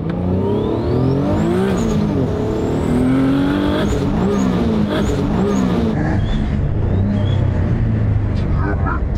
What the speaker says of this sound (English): Just blew the engine.